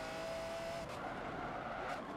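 Cars racing in Forza Motorsport 7, with a Lotus sliding under a steady loud engine roar, tire noise swelling near the end and no voices.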